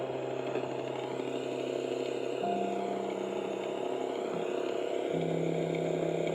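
An unexplained engine running steadily at a reportedly haunted historic site, a constant mid-pitched hum with held tones that shift in steps, fairly close and alone without talk.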